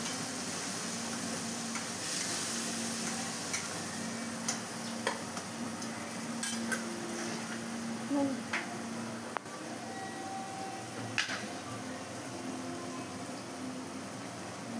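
Spice mix frying in a pan for a Bengali kochu shaag dish: a steady low sizzle with scattered light ticks and taps from stirring, continuous and close throughout.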